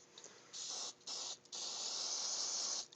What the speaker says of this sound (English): Just spray that on, make sure it stays.